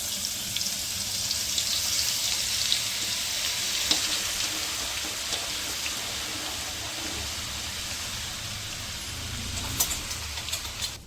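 Ginger garlic paste goes into hot oil in a pan while chicken pickle is made, giving a steady loud hiss and sizzle throughout with faint scraping of stirring.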